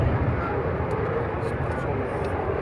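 Alpha Jet military jet flying at an air show, a steady loud engine roar and rushing noise throughout, heard under a commentator's voice.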